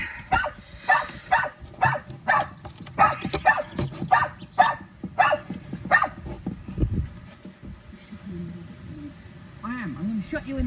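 A dog barks repeatedly in sharp, evenly spaced bursts close by, then drops to a few whimpers and yips at the end, with a person talking intermittently underneath.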